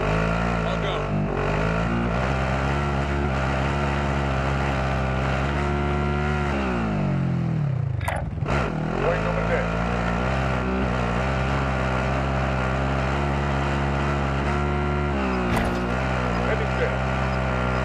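A vehicle engine from the Warzone video game drives steadily, with a rising and falling rev and a brief whoosh near the middle, heard up close under continuous game audio and players talking.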